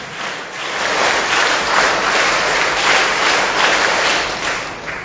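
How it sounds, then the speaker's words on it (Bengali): Scouts applaud loudly together to welcome an arriving guest at a formal gathering, producing dense, continuous clapping. It holds steady throughout with a faint crowd murmur underneath. "স্কাউট তালি বাজায় জোরে"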